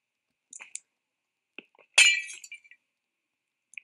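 Glass shatters in a video game, a sharp crash with tinkling shards following a few small clinks, each sound isolated against silence.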